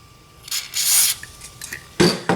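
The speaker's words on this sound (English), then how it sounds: "I'm gonna lightly spray that in there" Short hissing lubricant spray bursts onto a Glock 19 pistol slide, two or three quick puffs close by, followed by a faint rubbing sound.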